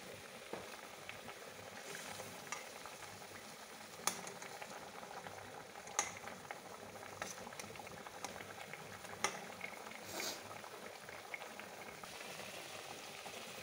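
Fried pabda fish simmering in a mustard and poppy seed curry with salt and a little sugar, a steady low bubbling with faint sizzle and a few soft clinks, close and moderately quiet throughout.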